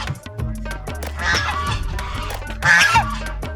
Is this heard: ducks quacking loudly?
yes